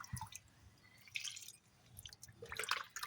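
Papaya fertilizer water is poured into a potted hibiscus, with intermittent wet splashes and drips soaking into the soil, close but faint, in uneven bursts.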